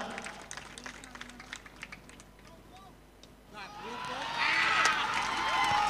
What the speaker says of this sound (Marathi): तमाम रसिकांना विनंती करून टाळ्या होऊ द्या मित्रांनो